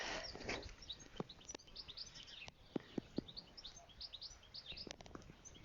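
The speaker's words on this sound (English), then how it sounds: "The guinea fowl have just been chirping." Guinea fowl give many short, high chirps and calls in quick bursts outdoors, with a few sharp clicks scattered through.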